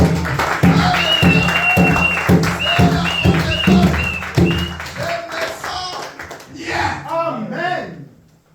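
Church congregation clapping in worship, steady close hand claps for several seconds mixed with sung or spoken voices, then fading into looser crowd noise and voices.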